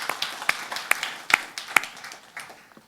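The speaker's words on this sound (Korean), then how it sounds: "하나님께 영광의 박수 올려드립시다." Scattered handclaps ring out from a church congregation at a Christmas service, a handful of sharp, separate claps spaced unevenly over a quiet background, fading toward the end.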